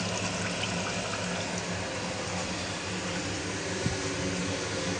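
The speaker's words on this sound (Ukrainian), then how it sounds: "Ось тече цікавий водоспад." Coolant pouring like a waterfall over the table of an ELB surface grinder, a steady, dense rush of flowing liquid with a faint machine hum beneath, continuous and unbroken.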